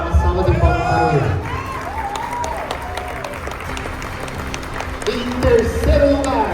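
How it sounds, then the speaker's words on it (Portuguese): Audience applause and light cheering for an athlete at a natural bodybuilding competition, rising under an announcer's amplified voice that continues through much of the clapping, with a louder burst near the end. "Uma salva de palmas para ele."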